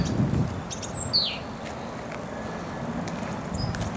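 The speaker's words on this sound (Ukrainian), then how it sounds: "синички під променями сонця сповіщають нас про початок весни" Tits sing in spring sunshine outdoors, their clear high whistles and short chirps scattered over a steady wash of low background noise, moderately near with brief gaps between phrases.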